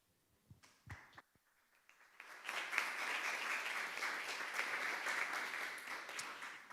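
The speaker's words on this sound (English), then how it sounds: "It's nice to get a clap for the long walk." An audience applauds at an environmental gathering of religious sisters, with a few scattered claps at first and then a sustained, steady round of clapping that fills the room.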